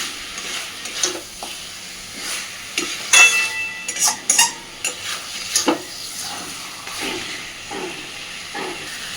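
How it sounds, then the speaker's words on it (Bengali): Chicken simmering and sizzling with spices while being stirred in a pan, with intermittent scraping and stirring clatter over a soft, steady hiss, close and moderately loud. "বেশ মিনিট 5 ধরে মশলাটাকে কষে নিয়েছি মাংসের সাথে"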